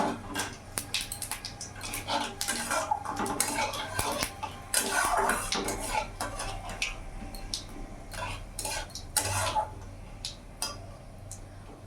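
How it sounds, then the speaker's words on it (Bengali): Whole cumin seeds, a bay leaf and a dried red chilli crackle and sizzle in hot oil, a busy stream of sharp pops and hisses with a few clinks of a metal utensil. "তেল গরম হয়ে গেছে, এখানে ফোড়নে দিয়ে দিলাম গোটা জিরে, একটা তেজপাতা, একটা শুকনো লঙ্কা"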